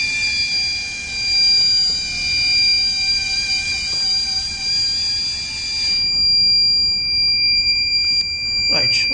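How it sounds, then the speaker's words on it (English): Steady high-pitched electronic buzzer alarm sounding continuously from a full-bin sensor on a solar-powered garbage-collecting robot boat, then cutting off partway through, over a low background hum. "automatically the buzzer will be off as the bin was clear now"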